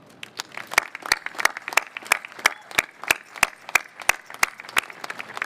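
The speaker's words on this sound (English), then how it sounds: "would you please join me in another round of applause to acknowledge all those who designed, planned, and built this amazing and beautiful ship" Slow, sparse clapping from a small audience at a Navy ship christening, honoring those who designed and built the USNS Sojourner Truth; about a dozen evenly spaced sharp claps, fairly close, with no talk over them.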